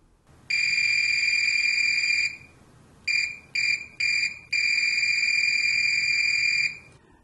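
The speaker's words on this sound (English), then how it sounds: "that buzzer sounds really strange" A high electronic continuity buzzer tone from a Fluke 189 multimeter sounds steadily, cuts into a few short beeps, then holds again in a long continuous whine.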